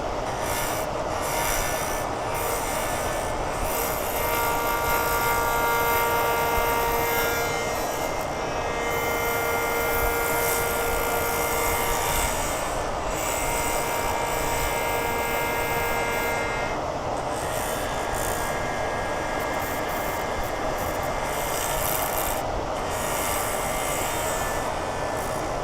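A wood lathe spins a hybrid burl pen blank for a cigar twist pen, a loud, steady mechanical drone with sustained squealing whine tones running unbroken throughout, no voices.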